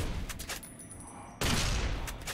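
Gunfire in the video game Fallout New Vegas: a few sharp shots followed by a louder, sustained burst, close and prominent.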